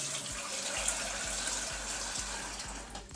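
Tap water runs steadily into a cooking pot for pasta, a continuous close hiss and splash with faint low knocks from the pot, no talking.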